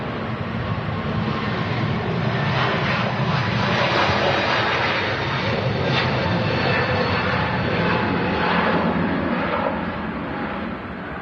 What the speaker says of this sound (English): Do I hear more Pratt & Whitneys?